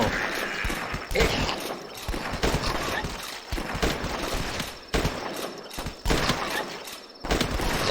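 Rapid gunfire from the video game The Last Stand, repeated sharp shots in uneven bursts over a busy, loud game background.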